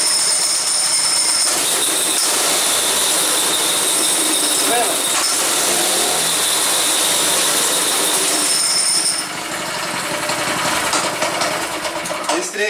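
A homemade go-kart's small engine runs loud and close with a harsh, high mechanical whine and rattling, holding steady before easing down toward the end.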